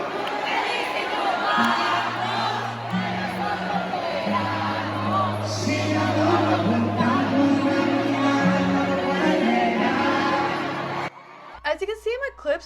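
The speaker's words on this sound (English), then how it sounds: "the whole concert is sold out. It is full. It's a full crowd." A sold-out crowd at a concert in Miami cheers and whoops loudly over booming bass-heavy music. The roar stays continuous until it cuts off abruptly, and a few spoken words follow.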